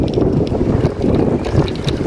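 Steady wind buffets the microphone during a bike ride in Poland, a continuous low rumble with gusty swells and no voices.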